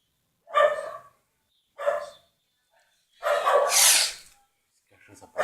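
A dog barks right out front in short, loud bursts separated by pauses, with a longer, harsher volley in the middle and another bark starting at the end.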